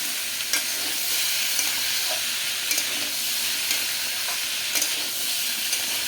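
Vegetables with cauliflower and paneer in a curry are stirred in a pan over a steady close sizzle, with the spoon scraping at irregular intervals.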